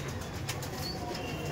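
A Teddy breed pigeon flaps its wings in quick, close bursts while being held in the hands, with a steady loud rustle and no voices.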